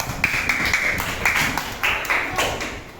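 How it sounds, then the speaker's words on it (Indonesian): A small class claps hands during a micro-teaching lesson, a few close, loud bursts of sharp claps with brief gaps between them. "kasih tepuk tangan"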